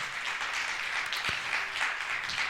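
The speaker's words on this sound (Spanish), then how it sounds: "Dale un fuerte aplauso al Señor" A church congregation claps in a dense, continuous wash of applause, moderately distant and even throughout, with no voices standing out.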